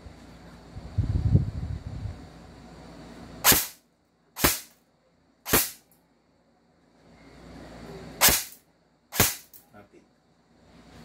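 Shots from an HK M110 A1 or Zion Arms MCQB airsoft rifle: five sharp, loud cracks, first three spaced about a second apart, then a pause and two more, after a low rumble of handling noise.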